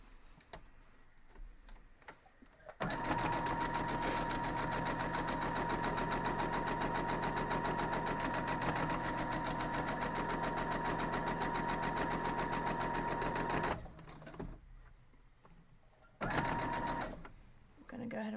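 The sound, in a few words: sewing machine sewing quilt block seam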